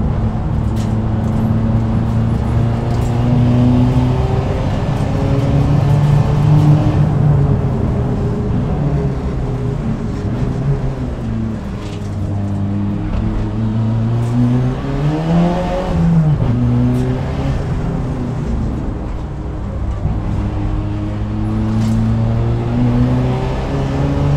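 A Renault R21 Turbo Europa Cup race car, about 300 hp through the front wheels, is revved hard while driving, its engine note climbing and falling repeatedly over a steady loud drone, heard from inside with no talking.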